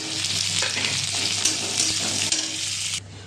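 A large onion dropped into hot oil with crushed, browned garlic, frying with a loud, dense, close sizzle that crackles steadily before cutting off abruptly near the end.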